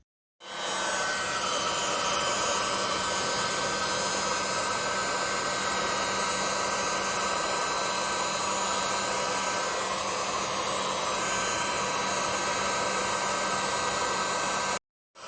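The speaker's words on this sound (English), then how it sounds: "I am going to use a heat gun, a paint stripper gun, and I'm going to lightly melt these back to a nice flat state" A heat gun, a paint-stripper type, blows continuously while softening pinball machine parts flat, a steady loud whooshing hiss with a faint fan hum, switched on abruptly and cut off at the end.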